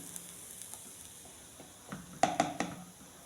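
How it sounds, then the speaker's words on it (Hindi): A little ghee heats in a frying pan, giving a soft, steady sizzle. Near the end a few sharper scraping clinks of stirring rise above it. "ये फ्राई पैन है और फिर इसमें डालती हूँ मैं घी"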